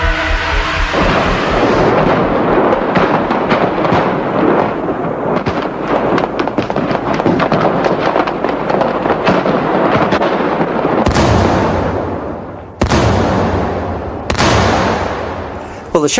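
Rocket-propelled grenades fired at a motorcade, recorded up close by one of the attackers: a long roar of loud, crackling blasts and rumbling, followed by several sharp, separate explosive bangs, each trailing off, with voices faintly underneath.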